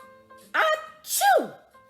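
A voice imitates a sneeze during a read-aloud story at a first-grade literacy night, one sharp intake followed by a loud, drawn-out "achoo" burst, close and clear, with talk before it.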